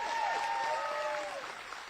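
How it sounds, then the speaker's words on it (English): Crowd applause at a Republican political rally in Addison, Texas, a brief patch of steady clapping with a voice talking over it. "Give her a big round of applause."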